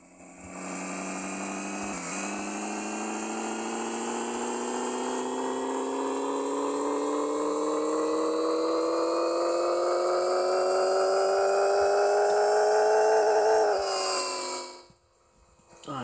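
Front-wheel-drive car engine on a dyno in the video game Pixel Car Racer, revving in one long steady climb for about thirteen seconds, then cutting off sharply near the end.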